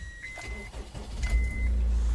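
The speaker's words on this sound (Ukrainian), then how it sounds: "Заводиться автомобіль з півоберту. Зараз ще раз заглушу, ще раз покажу вам." Engine of a 2012 Honda CR-V with a 2.2 diesel and automatic gearbox catching quickly on the starter, a brief crank followed by a deep, steady idle rumble, heard close up.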